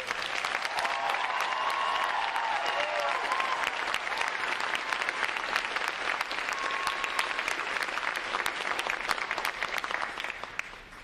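Sustained applause from a large crowd at a Navy recruit training graduation, steady and dense clapping throughout, tapering slightly at the very end.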